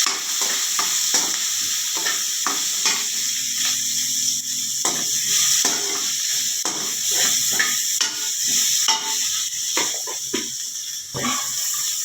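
Sliced onions and ridge gourd sizzle steadily in a pan while a spoon stirs them, making repeated scraping clicks over the continuous frying hiss. No one speaks.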